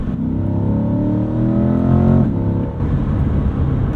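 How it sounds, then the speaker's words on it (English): A Chevrolet C8 Corvette on transmission kick-down: the engine note rises steadily in a strong, close acceleration, briefly swells louder, then settles into a lower, rougher drone as the gear changes. "If you want a faster kick down, you do the right foot in the gas"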